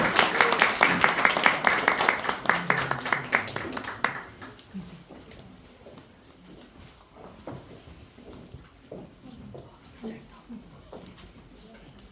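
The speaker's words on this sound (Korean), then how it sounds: "박수로 다시 한번 환영해 주세요." An audience at a church's first-anniversary concert in Seoul claps loudly for a male vocal ensemble for about four seconds. The applause then thins to scattered claps as a voice begins speaking over the quieter room.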